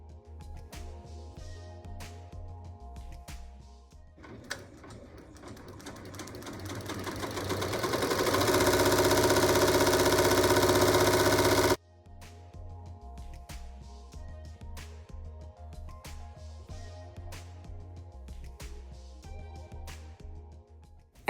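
A sewing machine stitches across a faux leather pencil pouch in rapid, steady mechanical clatter. A louder whirring burst in the middle cuts off abruptly, and then the even stitching resumes, close and without talk.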